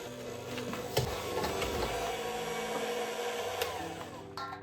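Electric hand mixer whirring through cookie dough with vanilla for chocolate chunk toffee cookies, a continuous close buzzing drone with small knocks of the beaters against the bowl.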